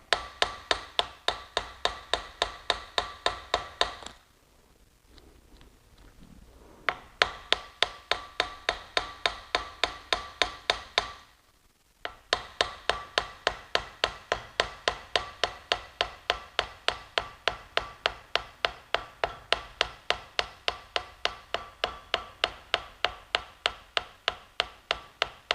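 A small hammer taps down the corners on a sword pommel in long runs of rapid, even, sharp metallic strikes. Two brief quiet pauses break the runs, and the tapping is close and clear with no talk.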